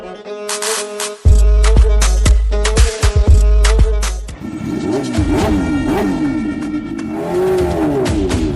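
A car that was just push-started revs loudly up close and then pulls away, with its engine note rising and falling as it drives off.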